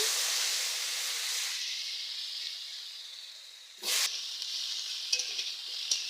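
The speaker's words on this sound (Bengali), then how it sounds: "আলুগুলো ভাজা ভাজা হয়ে গিয়েছে।" Potatoes frying and being stirred in a wok previously used for frying fish, with cumin seeds in the oil: a steady close sizzling hiss, then a brief louder scrape of stirring near the middle and a few light clinks afterward.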